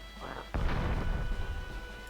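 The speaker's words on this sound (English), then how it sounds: "Okay, my cannon is already shooting. That looks like a nice shot." A cannon fires in Warhammer: Dark Omen, one sudden booming blast that rolls into a rumbling, crackling tail over low battlefield ambience.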